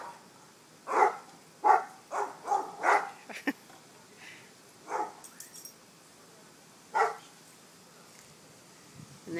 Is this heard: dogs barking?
yes